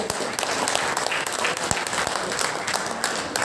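Senior citizens in an audience break into dense, steady applause, many hands clapping together at an even, loud level throughout with only slight swells.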